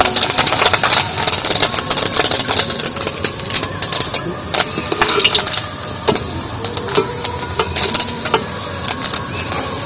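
Sabudana (tapioca pearls) dropped into hot oil sizzles and bubbles steadily and loudly throughout, a dense crackling frying sound with small pops, alone without talk.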